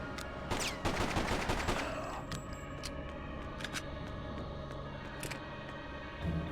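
Gunfire from the PC game Freedom Fighters rings out as a dense burst of rapid shots, followed by scattered single cracks over a background of battle noise.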